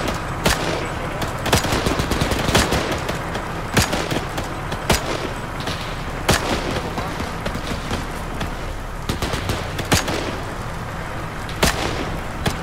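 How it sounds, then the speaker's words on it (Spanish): Machine guns and rifles fire in an Arma 3 military simulation battle set on a street. Sharp, scattered bursts and single shots crack at irregular intervals over a constant rumble, some close and loud, others more distant. "Ojo, ametralladora, ojo, ojo."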